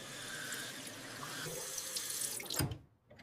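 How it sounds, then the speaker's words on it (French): A bathroom tap runs steadily with a broad rushing hiss while a toothbrush is rinsed, then the flow is shut off abruptly near the end, leaving near silence. "Ne laisse pas l'eau couler."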